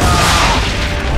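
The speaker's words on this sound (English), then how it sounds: "Hit those old powder barrels and light up the sky." Cannon fire striking powder barrels in the Assassin's Creed III video game, a loud continuous explosive boom filling the whole moment with dense rumbling blast noise and no talk.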